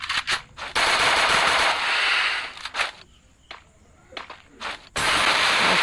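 Video game gunfire in a first-person shooter, with rapid automatic bursts and single shots close up, broken by brief lulls, the shooting starting and stopping several times.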